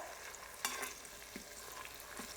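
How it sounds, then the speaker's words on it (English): Pressed garlic sautéing in melted butter in a pan gives a soft, steady sizzle with a few faint stirring scrapes, quiet and without voices. "So our butter's all melted. We're going to go ahead and add our garlic."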